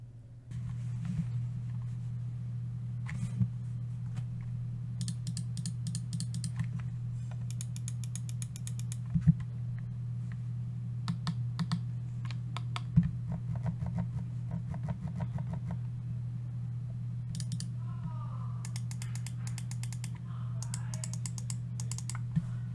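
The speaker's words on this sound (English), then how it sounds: "before I give you my opinion on this mouse, let's do a sound test for the buttons." Logitech G403 gaming mouse buttons click sharply in repeated quick bursts, alone, over a steady low electrical hum with no talking.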